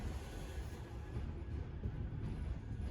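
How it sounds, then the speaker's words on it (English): A low, steady rumble of a tram passing along a Manchester street, faint and continuous with no distinct peaks. "This tram's going towards Timperley"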